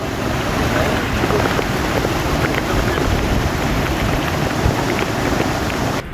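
Heavy rain pours down in the Nilgiris as a dense, loud, continuous hiss and rush, with some wind buffeting the microphone.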